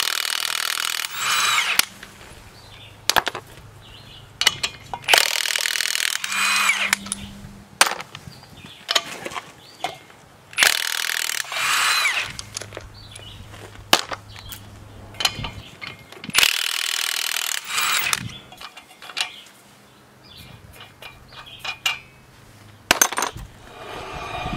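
Socket wrench ratcheting in bursts while installing a Weldtec 5-inch front spindle and spacer lift on a 2003-or-later Chevy Express 3500 Roadtrek van, with clicking runs separated by pauses and clanks of tools.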